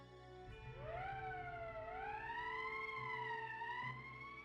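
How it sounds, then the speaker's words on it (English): A rising, wailing emergency siren in the video game Valkyria Chronicles sweeps upward and holds a wavering tone, steady and moderately loud over a low background hum. "That's the emergency siren."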